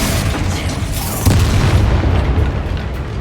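A Confringo blasting spell explodes in the video game Hogwarts Legacy, a loud deep boom with rumbling, crackling debris that sustains for a few seconds.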